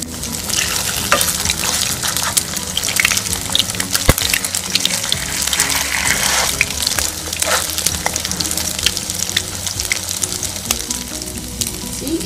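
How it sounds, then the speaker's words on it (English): Thai-style fish cakes with turmeric and lemongrass fry in hot oil with a loud, continuous crackling sizzle, broken by occasional stirring clatter close by and no voices. "fry in hot oil"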